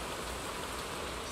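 Steady rain pattering on surfaces in Zenless Zone Zero, a dense even hiss of drops that is moderately loud and unbroken, with no voices.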